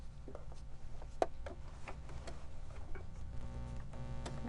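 A sewing machine stitching fabric for a Christmas stocking runs with a low steady hum and a scatter of light mechanical ticks and clicks, faint and without talk.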